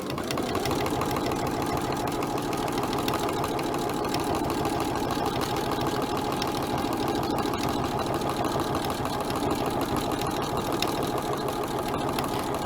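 Sewing machine running fast and steady for free-motion embroidery applique on fabric, a dense continuous mechanical chatter that holds at one even pace throughout, close and alone with no talk.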